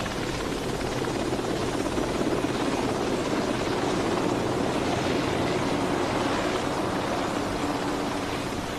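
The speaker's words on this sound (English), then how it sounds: "Once the helicopter is airborne, the radar scanner is swung down to give a full 360-degree coverage." A helicopter drones steadily throughout, a dense continuous rotor and engine roar with no voices.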